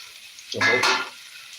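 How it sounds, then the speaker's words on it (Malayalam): Onions and chillies hit a hot pan with curry leaves, giving a sudden short burst of sizzling and stirring that rises sharply and fades within half a second. "അപ്പോൾ ഉള്ളിയും മുളകും എല്ലാം ഇട്ട് കൊടുത്തു നന്നായിട്ടൊന്ന് ഇളക്കി കൊടുക്കുക"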